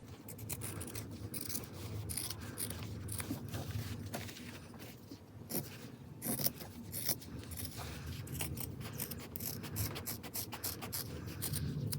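Scissors trimming the sewn edges of a fabric wallet: steady close snipping and crisp cutting strokes repeated throughout, with soft handling rustle between cuts.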